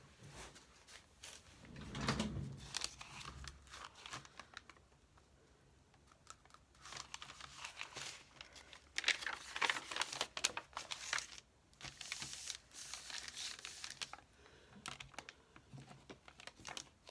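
Coffee-dyed paper having its edges torn by hand, a run of dry ripping and crinkling bursts that come and go over the stretch, close and fairly quiet, with no talking.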